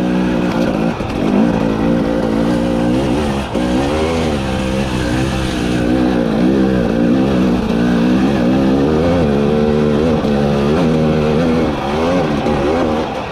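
A 2021 Husqvarna TE300i two-stroke dirt bike on a trail, its engine loud and close throughout with a rising and falling rasp as the throttle opens and eases, unbroken by voices.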